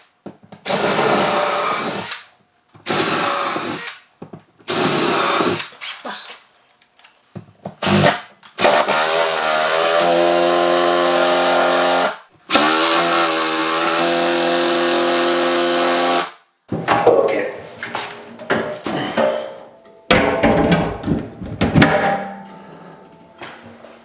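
A power drill bores four holes for lag screws while a dust collection system is set up, loud bursts of drilling, a few short and several long sustained runs, separated by brief pauses and clattering handling noise.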